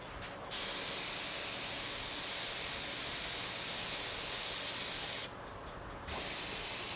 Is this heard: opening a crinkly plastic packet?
no